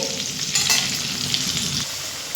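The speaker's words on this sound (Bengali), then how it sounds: "আলুগুলো মিডিয়াম ফ্লেম করে ভেজে নেব" Potatoes fry in oil over a medium flame with a loud, continuous close-up sizzle, and a brief stirring scrape partway through.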